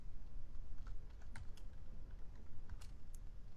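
Rapid keystrokes on a computer keyboard while entering PL/SQL code, a steady patter of close, quiet clicks running continuously with no voices.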